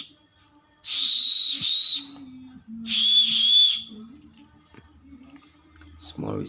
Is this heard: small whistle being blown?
yes